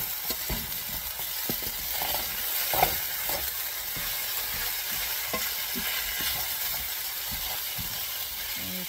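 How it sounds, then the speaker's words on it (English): Ham hash with diced potato and onion sizzling and being stirred in a frying pan, a steady soft crackle broken by scraping stirs and an occasional sharper clink from the utensil. "So I'm trying to mix the onion up evenly with the potato."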